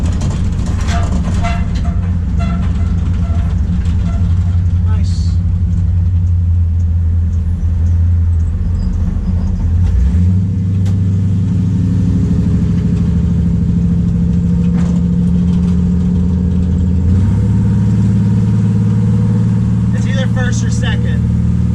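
The restored WRECTO-1 car drives along a road, its engine a steady close rumble inside the cabin, with pitch shifts as it moves through the gears.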